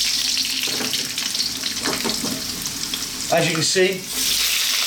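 Potato chunks frying over high heat for Indian aloo fry, a loud constant sizzle with stirring and tossing scrapes in the pan, close up, with a voice speaking briefly over it.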